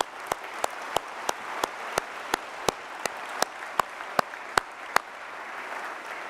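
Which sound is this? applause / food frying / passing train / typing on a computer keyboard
applause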